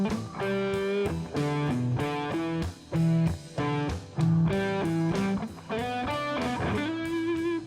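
Electric guitar riff played with a relaxed, light picking hand, sparse notes with a gentle attack, mildly distorted tone, steady rhythmic phrasing played alone at close range.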